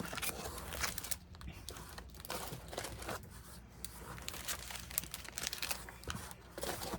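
A paper pad crinkles and rustles as it is handled, steady close crumpling and crackling with small tearing-like bursts throughout, no voices over it.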